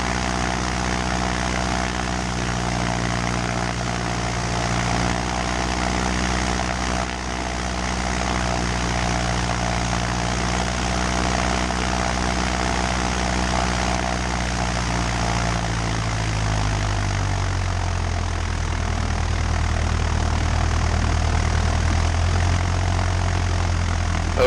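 Light propeller aircraft taking off from Mesquite Airport, a steady loud engine drone with a buzzing propeller tone that holds steady and then shifts lower and rougher as power builds late in the run, with no talk over it.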